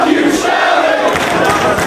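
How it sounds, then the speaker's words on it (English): A wrestling crowd at a tag-team match chants loudly and steadily at a wrestler, a dense roar of many voices filling the arena. "The crowd not exactly chanting for Alex Shelley, chanting at Alex Shelley"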